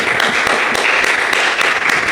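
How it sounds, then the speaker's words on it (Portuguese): A church congregation claps in sustained, dense applause during a worship service, steady and fairly loud throughout with no voices over it. "Para o Senhor Jesus uma linda salva de palmas."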